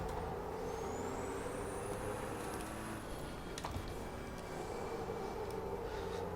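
Air brakes on a racing truck in the Formula Truck 2013 video game hiss and release under a constant loud engine roar, with a high whine rising and falling above it.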